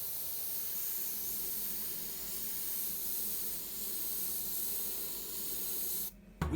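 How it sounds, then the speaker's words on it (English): A steady, close spray hiss of clear coat being applied to a helmet runs for about six seconds, then cuts off sharply; no voices. "Now is it actually time to paint the second layer of clear coat."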